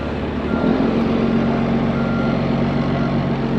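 A large dump truck backing up on a barn building site, its steady reversing beep sounding over a loud, continuous diesel engine rumble, close by with no talk.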